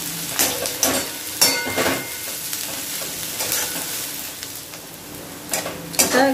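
Loud, steady sizzling of vegetables in a thin wok on high flame, with repeated scraping and tossing strokes as they are stirred.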